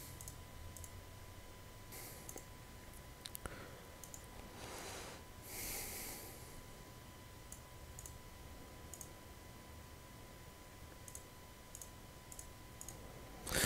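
Mouse clicks while playing Old School RuneScape: faint, sharp, isolated clicks spaced irregularly over a quiet hiss, with one soft snort-like breath partway through.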